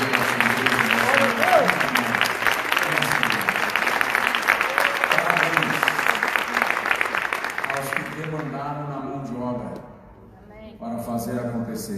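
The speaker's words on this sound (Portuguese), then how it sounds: "Vamos aplaudir ao Senhor por isso." A church congregation bursts into sustained applause that fills the room for about eight seconds, then thins out and briefly drops off before scattered clapping resumes, with speech running under the whole stretch.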